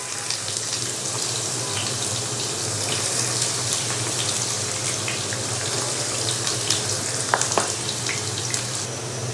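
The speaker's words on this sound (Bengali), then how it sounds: "এখন আমি দিয়ে দিচ্ছি পেঁয়াজ কুচি।" Chopped onion sizzles in hot oil while a keema potol dish is cooked. A steady, dense frying hiss with scattered crackles runs evenly throughout, and no one speaks.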